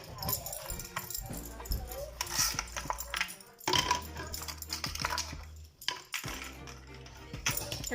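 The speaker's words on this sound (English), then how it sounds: "Put our ice." Ice is dropped into a blender jar for a chocolate espresso frappe, giving clattering, clinking knocks in several bursts close to the mic, with chatter throughout.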